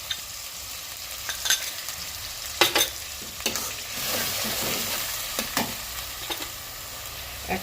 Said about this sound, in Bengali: পেঁয়াজ দিয়ে একটু নাড়াচাড়া করে আদা রসুন বাটা এখানে আমি দিয়ে দেবো।